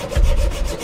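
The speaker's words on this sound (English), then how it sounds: "using a metal saw to cut the remaining stays" A metal saw rasps back and forth steadily, cutting sailboat rigging stays after a broken mast, close and loud, with repeated grinding strokes and no voices.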